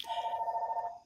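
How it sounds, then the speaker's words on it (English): A phone rings once nearby, a single sustained electronic trill lasting about a second and fading out, with no voices over it. "oh, and there's your phone."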